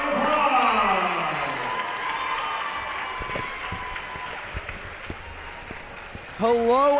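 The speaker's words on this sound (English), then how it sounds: "Give a round of applause." High school gym crowd at a boys varsity basketball game clapping and cheering, loud at first and then thinning, with scattered claps, a few shouts and sharp squeaks toward the end.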